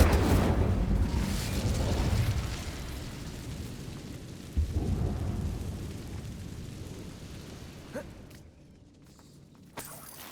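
An Incendio fire spell is cast in a video game, a roaring whoosh of flame at the start that fades into a crackling rumble, with a second softer burst and a few sharp pops later.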